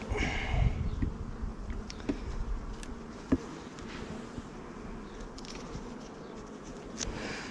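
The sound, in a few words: honeybees buzzing on hive frames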